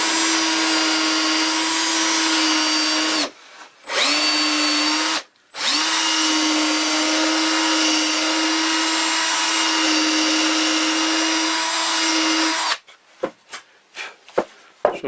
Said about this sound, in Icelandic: Byrja því að bora beint niður